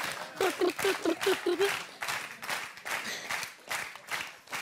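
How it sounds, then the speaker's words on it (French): Theatre audience applauding for a child performer, a dense burst of clapping that swells and carries on through the whole stretch, with a brief vocal note near the start. "Allez, tout le monde en applaudit."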